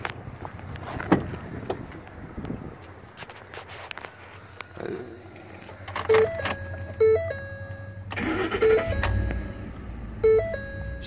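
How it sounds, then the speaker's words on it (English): A 2010 Ford F-150 pickup with 116,435 miles starts up, its loud cranking burst settling into a low, steady idle rumble. Repeated electronic warning chimes ring over it, and a door or handling noise comes earlier. "let's go ahead and start the truck up so you can hear it run"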